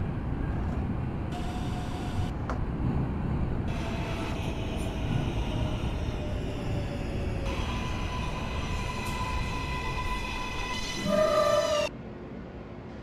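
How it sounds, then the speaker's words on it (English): A Kawasaki R143 subway train runs in the OpenBVE simulator game, with steady rumbling wheel noise under rising and falling electric motor whines and tones, and a brief louder burst near the end. "This is a Coney Island bound M train."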